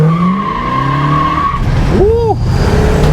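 A fuel-injected 440 V8 1971 Plymouth Barracuda with a limited-slip rear launches hard, its engine roaring as the tires break into a loud, rising squeal that peaks midway, then the car settles into a steady drone.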